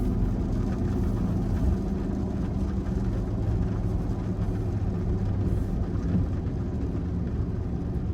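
A 2026 supercharged Ford Lightning truck in stock mode rumbles steadily and loudly up close, a dense low engine drone that holds constant throughout with no talking over it.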